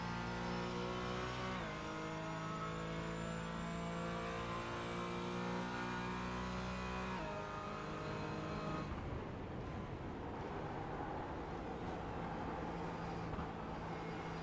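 Race car engines at Silverstone in iRacing, with a loud, sustained engine drone that rises in pitch under acceleration, then drops sharply at a shift before climbing again as cars run side by side.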